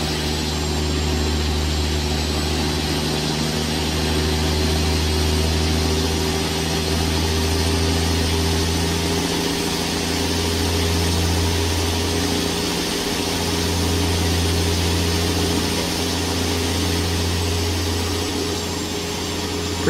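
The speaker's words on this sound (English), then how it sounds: "Pretty cool sounding engine. I'm definitely letting it run for you." A Cat 3406E truck engine with a two-speed engine fan idles in American Truck Simulator, a steady, loud, low rumble with a faint periodic pulsing that runs unbroken throughout.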